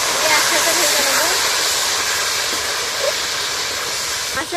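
Fish head frying in fish oil in a pan for a Bengali chhyachra curry, a loud, continuous broadband sizzle hissing steadily at close range throughout.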